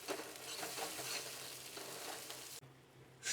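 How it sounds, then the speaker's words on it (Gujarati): Pizza chutney stirred with olive oil in a pan, a soft steady sizzle with faint stirring scrapes, close and quiet, ending with a brief clatter and no speech. "ઓલિવ ઓઇલ નાખી મિક્સ કરી અને આપણે ગેસને બંધ કરી દઈશું"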